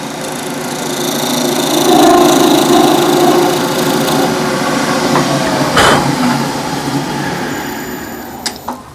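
Wood lathe turning a burl and epoxy resin shaving brush, a steady close whirring drone with a scraping cutting tone that rises and eases, ending in a few light knocks, and no voices.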